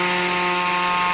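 An electric blender runs steadily, whirring as it emulsifies eggs and olive oil into homemade mayonnaise; the motor drones loud and even, with no voices over it.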